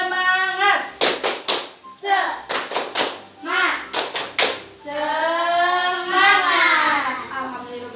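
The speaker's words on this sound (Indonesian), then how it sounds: "Tepuk semangat." A group of schoolchildren performs a rhythmic spirit clap, patterns of sharp hand claps alternating with chanted voices in a classroom, close and energetic.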